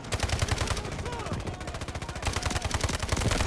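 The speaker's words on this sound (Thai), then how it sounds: "ยิงแหลกครับผม" Rapid automatic gunfire from the video game Delta Force, dense bursts of shots filling the clip with a game soundtrack underneath, loud and continuous.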